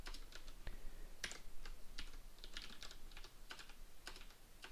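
Keys on a computer keyboard clack in quick, irregular bursts, close by but fairly quiet, with no voices.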